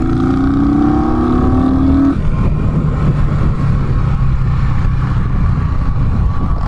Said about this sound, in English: Dude, this is definitely a bar hop motorcycle.